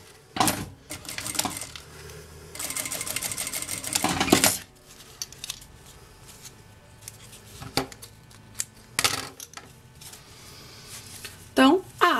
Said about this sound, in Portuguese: eu vou trazer ela aqui e passar uma costura